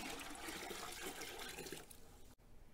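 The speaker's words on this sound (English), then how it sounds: "now we need to pump this up with another 2 gallons of water." Water gushes steadily from a storage tank pump into a container while two gallons are measured out for a plant nutrient mix, a broad rushing flow that thins and trails off near the end.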